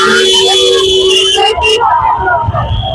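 Supporters in Mumbai ward 169 cheer a Shiv Sena (UBT) candidate's municipal election victory, with loud overlapping crowd babble and shouting carried continuously over a busy street-like background.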